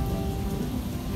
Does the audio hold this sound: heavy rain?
yes